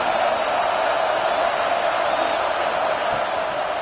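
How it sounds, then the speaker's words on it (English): Large stadium crowd at an Ohio State versus Texas college football game, a dense, steady roar of distant cheering and noise that stays loud and continuous throughout. "Listen to the crowd energy here in the early going."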